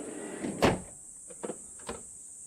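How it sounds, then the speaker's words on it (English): The sliding door of a 2004 Mitsubishi Delica Space Gear Chamonix 4WD van thuds shut, followed by two softer clicks as its soft-close mechanism draws it fully closed, with a steady high-pitched hiss in the background. "Easy closer on the door you just heard."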